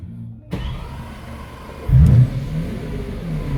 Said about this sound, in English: I should start the car just to be safe